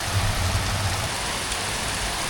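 Heavy rain pouring down outdoors, a dense, loud and continuous hiss of drops striking surfaces close by, with no talking.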